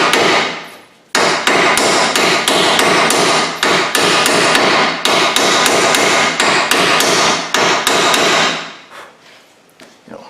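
Rapid, loud, close hammer blows tapping a cup to press a ball joint into a Jeep WJ front axle, a steady metallic rhythm of dozens of strikes that stops after about eight seconds.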